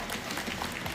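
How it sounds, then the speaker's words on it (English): Audience at a LAN finals esports event applauding, a brief, steady wash of clapping with no pauses. "Can we just get a round of applause for Jolan?"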